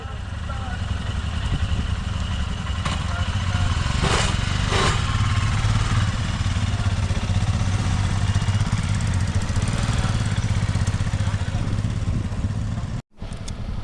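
A motorcycle riding up to Magnetic Hill, its engine a steady, close, continuous drone mixed with road and wind rumble that cuts out briefly near the end.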